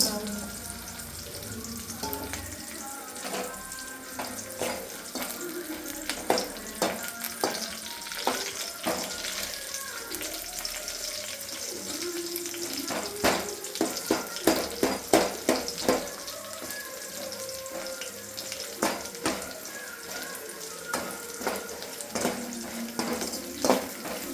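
Chilli chicken gravy ingredients sizzle and fry in a pan, with a steady crackling hiss broken by repeated spoon scrapes and stirring clatter, close and fairly loud throughout.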